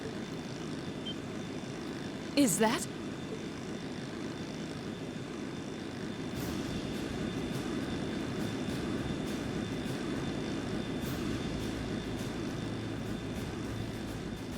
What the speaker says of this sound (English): What's that? Sounds like an airship.